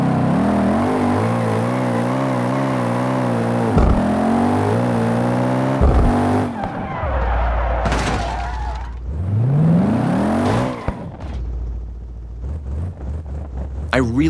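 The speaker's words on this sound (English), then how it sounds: "let's jump into a quick crash test to see how it handles impact" A car crash test in BeamNG Drive plays as steady engine whine and revving with shifting pitch, broken by sudden impact thuds and rattling bursts, loud and close throughout.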